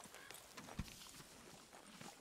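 Horse hooves clip-clop in Red Dead Redemption 2, a soft, steady walking rhythm of light thuds at low level with a faint game ambience behind.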